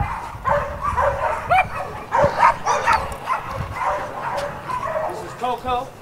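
Coco, a massive pit bull, lets out rapid close barks and yips while a person talks over the noise nearby.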